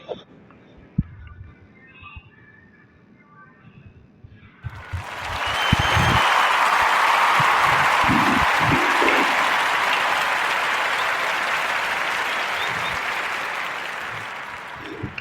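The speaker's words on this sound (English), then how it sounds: "We want to give a warm Narrative podcast round of applause up for Shades of Africa and sister Renee Quarles." After a few seconds of quiet rustle and knocks, a round of applause swells up for guests on a podcast and sustains as a full, dense crowd clapping, slowly easing off near the end.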